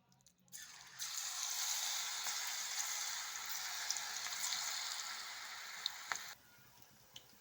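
Ragi pakoda batter sizzles in hot oil, a steady soft frying hiss that starts abruptly, holds evenly with a few small pops, then cuts off, fairly faint and without talk.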